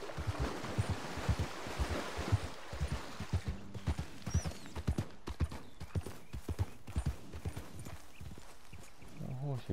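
Horse hooves clip-clop at a steady walking rhythm in Red Dead Redemption 2, near and fairly clear, under an ambient outdoor bed with occasional louder thuds.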